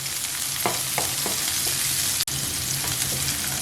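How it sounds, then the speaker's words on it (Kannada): Chopped onion hits hot oil already popping with mustard seeds and cumin, giving a steady close sizzle with a few stirring scrapes and one brief dropout partway through, no voices. "ಅರ್ಧದಷ್ಟು ಈರುಳ್ಳಿನ ಚಿಕ್ಕದಾಗಿ ಕಟ್ ಮಾಡಿದ್ದೀನಿ, ಅದನ್ನು ಹಾಕೋಣ. ಈರುಳ್ಳಿ ಸ್ವಲ್ಪ ಬಾಡಿಸ್ಕೋಬೇಕು."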